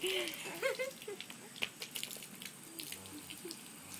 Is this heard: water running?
yes